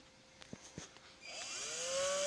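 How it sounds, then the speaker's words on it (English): A small drill bit boring a guide hole into the body of a Squier Jazz Bass for a thumb rest installation, a few light taps and then a rising whine as the drill spins up, fairly close and steady. "I'm going to use a very small drill bit at first"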